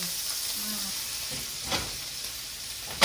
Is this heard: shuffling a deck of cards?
no